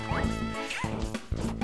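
Cartoon dogs barking in the Super Princess Peach game, several quick yips and barks over busy game music.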